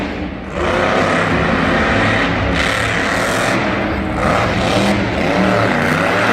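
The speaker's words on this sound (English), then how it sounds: "sound of this truck, though, is just phenomenal" A Monster Jam monster truck at a 2018 Santa Clara stadium show roars loudly and continuously, its engine revving hard with surges in pitch as it throws the truck around the arena.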